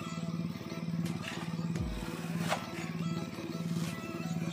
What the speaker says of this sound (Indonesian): disebabkan karena mesin air yang selalu kita standby-kan untuk mengisap airnya